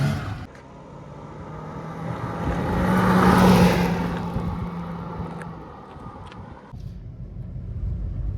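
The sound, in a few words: Honda City 5th generation car being driven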